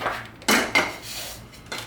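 Metal camping cooking utensils, including a pan scraper, clink and clatter as they are handled, with two sharp close knocks and lighter rattling in between, no voices.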